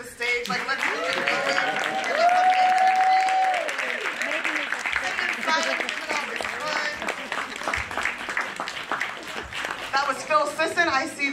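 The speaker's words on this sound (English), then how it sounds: "We can clap until folks get to the stage" Sustained applause from a large audience at a Dr. Martin Luther King Jr. celebration event, a dense steady clapping wash lasting throughout, with voices and a brief tonal sound mixed in.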